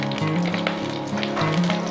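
Fresh green chillies hit hot oil in a pan, a close, steady crackling sizzle with faint stirring and a low background hum throughout the brief moment.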